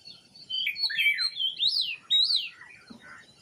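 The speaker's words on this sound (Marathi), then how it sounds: "हा पांढऱ्या गालाचा बुलबुल." A white-cheeked bulbul calls at a window, giving a run of bright, fluting chirps and whistled phrases close by and fairly loud, with no talk.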